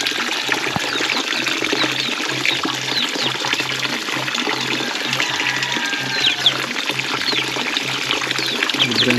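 Clear water from a mountain spring flows out in a steady, close, continuous gush and splash, with no break for the whole stretch.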